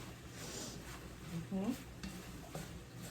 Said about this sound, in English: We're going to give that a good stir.